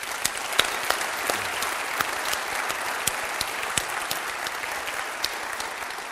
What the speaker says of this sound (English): how about a quick round of applause for our speakers?